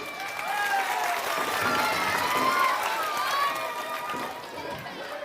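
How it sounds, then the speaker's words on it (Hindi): A crowd at an outdoor political rally in a village panchayat in Muzaffarpur claps loudly and steadily, a sustained wash of applause with faint scattered voices. "सब लोग जोरदार ताली बजाइए"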